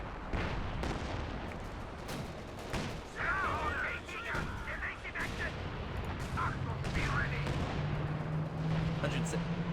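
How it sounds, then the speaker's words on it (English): Katyusha rocket artillery strikes in a Company of Heroes 2 match land as a spread of rumbling explosions and crackling impacts, with a commentator talking over the battle noise throughout. "Left hand side, Katyusha's hitting."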